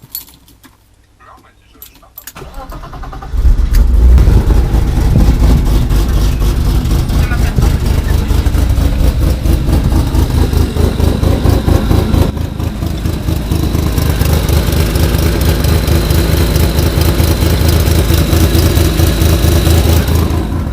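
A BMW drift car fitted with a decatted 325i exhaust and a 328i silencer cranks and fires for its first start-up, then settles into a loud, steady idle close by.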